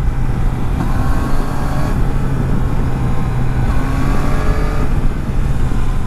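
A Yamaha Tracer 900 GT motorcycle accelerating on mountain curves, its engine droning loud and steady with rising rev sweeps, heavy wind rush over everything.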